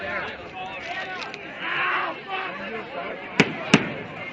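Fireworks at a 2010 display in Negaunee: steady crowd chatter and voices run throughout, then two sharp, loud booms crack out in quick succession near the end.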